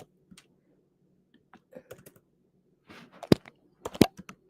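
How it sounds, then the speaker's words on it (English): Close, crisp keystrokes on a computer keyboard come in irregular bursts, sparse at first and then quicker clusters of sharp clicks, with near-silent gaps between them. "I'm going to just type it here."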